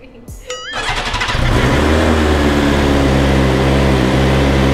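A BMW R 1250 GS Adventure motorcycle engine is cranked briefly by the starter and catches, settling into a loud, steady, close idle that holds to the end.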